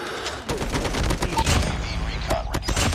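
Rapid gunfire from the Garena COD Mobile game crackles in dense bursts with sharp repeated shots, loud and close, as a voice talks over part of it.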